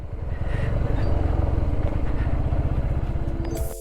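A motorcycle ridden over a rough, rocky off-road track beside a river near Pelling, Sikkim, its engine chugging loud and close in a fast, bumpy rhythm, rattling over the uneven ground before cutting off abruptly near the end.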